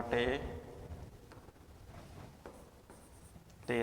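Scratchy strokes of a pen writing a class 10 maths solution by hand, faint and intermittent in the quiet between a man's speech at the start and end.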